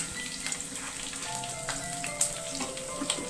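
Curry leaves, garlic, shallots, green chili and ginger fry in hot oil for a vegetable fish-style curry, a continuous crackling sizzle with scattered pops and light stirring, close by.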